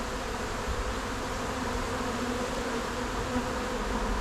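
A honey bee swarm buzzes steadily and densely throughout, a close, continuous drone of many wings without pause or talk.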